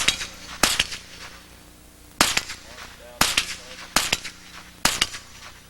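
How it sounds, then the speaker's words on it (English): A .22 rifle fires five sharp, cracking gunshots at uneven intervals, loud and close, each ending in a short ringing tail, with no talking between the shots. "it's just so much fun to shoot a 22 rifle"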